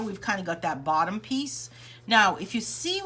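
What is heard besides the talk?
No everyday noises stand out.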